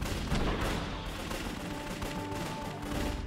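Gunfire in the WWII strategy game Codename: Panzers – Phase Two, on the Allied Anzio mission. A dense, continuous fusillade of overlapping shots stays loud and steady throughout, with no clear talk.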